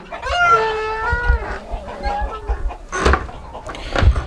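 Chickens in a small farm pen cluck and call in short bursts, fairly close, with a few sharper squawks and some low background noise.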